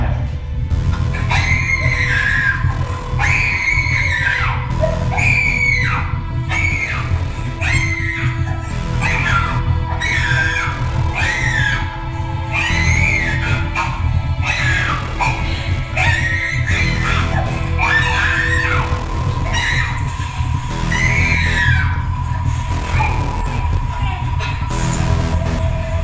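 A child screams over and over during an autistic meltdown indoors, long piercing wails repeating in a steady rhythm across the whole stretch, loud and close with some crying in between.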